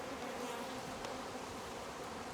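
A swarm of honey bees makes a dense, continuous buzzing drone, steady and close throughout, with no voices over it.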